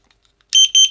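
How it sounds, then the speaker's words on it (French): A small electronic buzzer inside a Smoant Rabox vape mod gives a short, loud, high-pitched double beep, close up and with no talk over it. "il y a un petit buzzer qui vous permet de"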